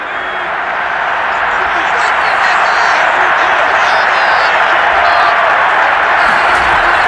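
A stadium home crowd roars steadily in the video game Madden NFL 22, during a simulated matchup of all-time Kansas City Chiefs and all-time San Francisco 49ers, a loud, sustained wash of cheering that swells slightly without a break.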